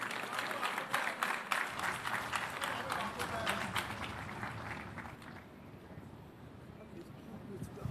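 At the Kwahu Business Forum, a crowd gives brisk, steady clapping to welcome Ghana's Trade, Agribusiness and Industry Minister, loud at first, then thinning and fading into murmuring after about five seconds.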